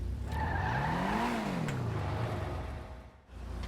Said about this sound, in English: Nice exhaust.